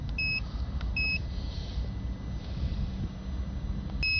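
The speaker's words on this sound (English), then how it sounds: "For that I'll just do a continuity test." A multimeter on continuity test beeps during a check on a Citroën Relay van's MAP sensor wiring, giving three short, clear electronic tones at about one-second gaps and then near the end, over faint background hum.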